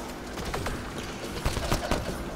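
Burst gunfire from a weapon in Mass Effect: Andromeda, a few quick, fairly faint rattling shots in short clusters over a steady noisy background.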